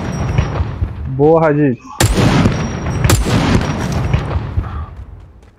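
Gunfire in the Badlanders video game, two sharp loud shot bursts cutting through nearby voices, with the blasts echoing and decaying afterward amid ongoing talk.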